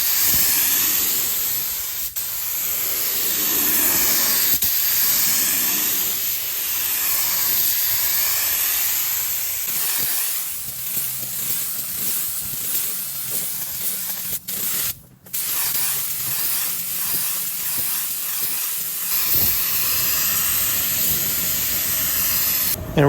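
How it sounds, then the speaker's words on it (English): Spray gun laying primer onto a Chevrolet El Camino body, a loud continuous hiss in long sweeping passes with brief pauses as the trigger eases off, close by and without talk. "I'm flicking my wrist away and letting off the trigger so it still pushes out the air, but it's not pushing out the paint"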